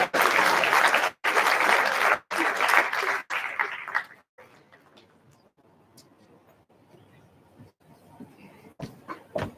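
Forum audience claps for the speakers in several loud bursts with brief pauses between them, then the applause gives way to quieter room sounds and faint talk.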